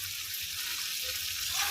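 Spice paste, or masala, cooking down for a paneer curry, a dense, bright, continuous sizzle and hiss that holds steady for under two seconds.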